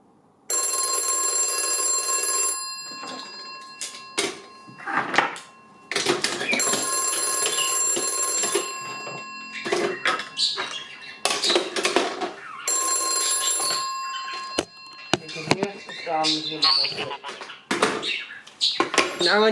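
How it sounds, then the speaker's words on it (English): Bell of a PMG 400 series telephone rings in repeated loud bursts of a few seconds each, with someone talking in between and over the pauses. "Now if I dial the opposite way, should hear it ring."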